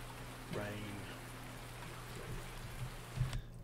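Steady rain hisses in Farming Simulator 19, a continuous wash of even, moderately faint downpour with a brief tonal murmur early on and a few small bumps near the end.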